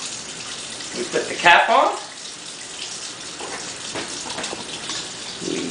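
Water pours and gushes into a home-brewing container, filled up to a marked line for a Mr. Beer pale ale batch, a brief splashing rush close by, with a person speaking over it.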